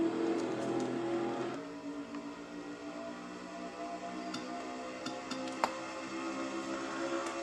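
A pack of NASCAR Nationwide Series stock cars in a racing video game roars off the start, engines revving high and loud, then settling into a sustained drone with brief sharp clicks, no voices.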